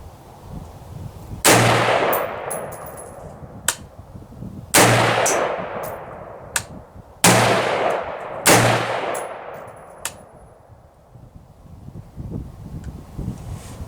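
Four loud AR-15 rifle shots ring out at an outdoor range, each a sharp crack with a long echoing tail, spaced a couple of seconds apart, followed by faint ticks and wind.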